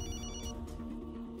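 A telephone rings with a brief electronic ringtone, a quiet pattern of repeating tones lasting only a moment, with no voices.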